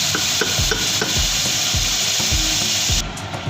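Leg chicken pieces cook in a pan while being stirred, loud rhythmic scraping strokes of a spoon repeating about every half second over a constant frying hiss, close and clear, no speech.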